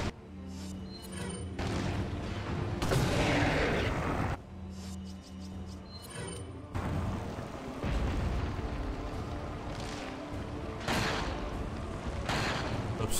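Gunfire and explosive booms in the video game Resident Evil 4 HD, several loud blasts with rumbling tails and brief quieter gaps between, alongside game sounds.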